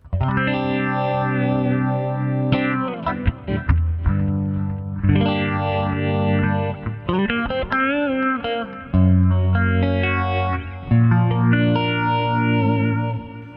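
Electric guitar lines washed in a wide, dreamy pan delay and chorus, notes echoing and overlapping continuously with no talking.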